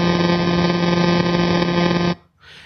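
A steady buzzing electronic tone with a rapid pulsing texture, a sonified pulsar signal spinning 174 times a second, constant and loud, cutting off abruptly near the end.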